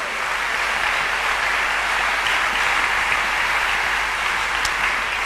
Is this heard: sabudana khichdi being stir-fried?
no